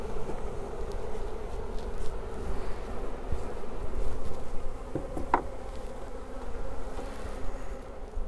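Honey bees buzz steadily around an opened beehive during requeening, a dense continuous drone that holds at moderate loudness throughout, with a brief sharper tone midway.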